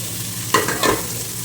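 Sliced onions drop into hot oil for a fish curry, with a quiet sizzle broken by two short bursts of spoon scraping and stirring against the pan.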